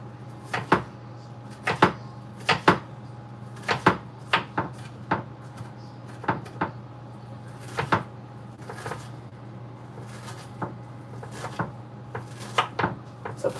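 Knife chopping onions on a board, a steady series of sharp, fairly close thuds in irregular bursts over a low constant hum, with no voices.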